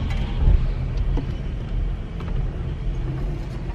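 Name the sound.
car making a strange noise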